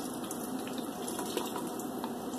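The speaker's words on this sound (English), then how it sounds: "You pour some of this Bud Light into here" Bud Light beer poured from a can over raw steaks, a steady close splashing gush lasting throughout.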